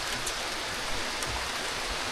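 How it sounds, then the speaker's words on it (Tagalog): Steady rain falling at a farm in Japan, a dense even hiss of drops with no let-up and no voices. "Nagkataon maulan."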